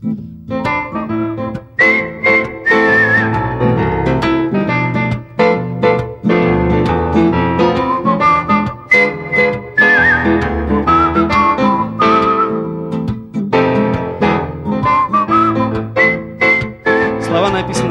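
A concert crowd whistles along to a sung ballad, bright wavering whistled melody lines riding over the music and voices for the whole stretch, loud and sustained with brief dips between phrases.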